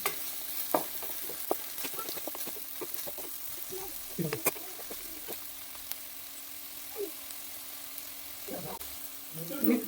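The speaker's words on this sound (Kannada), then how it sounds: "ಟೊಮೆಟೊ ಲಾಯ್ಕ್ ಫ್ರೈ ಆಗೋದು" Tomatoes fry in a pan with onions for an egg masala, a quiet steady sizzle broken by occasional utensil scrapes and taps, heard up close with some faint background sound.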